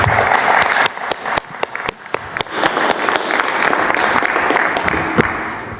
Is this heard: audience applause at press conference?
yes